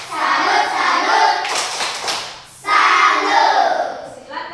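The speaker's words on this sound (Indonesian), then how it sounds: "Tepuk salut dulu untuk kita semua." In a classroom lesson, a group performs the rhythmic "tepuk salut" clapping chant. Voices chant alongside a burst of close, quick hand claps in the middle.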